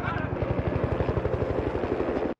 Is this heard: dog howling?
no